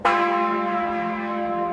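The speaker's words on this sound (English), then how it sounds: "The church bells ring as they have for centuries, calling people to reflection." A church bell in the town of Hamelin strikes once, a loud clear tone that rings on and slowly fades, heard alone.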